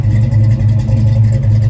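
Oldsmobile 442 W30 muscle car with a 425 cubic inch V8, 4-barrel carburetor and dual exhaust, accelerating: a loud, close, deep engine roar with a pulsing low rumble throughout, no talking.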